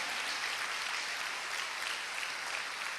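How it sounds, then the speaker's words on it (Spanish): A church congregation applauds during a service in one continuous dense wash of clapping at moderate distance, even in level from start to finish, with no voices standing out. "Denle un aplauso al Señor"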